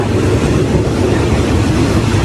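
A loud, steady rumble of express train 171 arriving at Thung Song Junction station in Nakhon Si Thammarat, Thailand, with a continuous rushing roar and no clear pauses.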